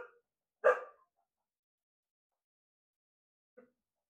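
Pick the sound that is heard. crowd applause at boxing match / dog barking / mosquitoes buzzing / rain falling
dog barking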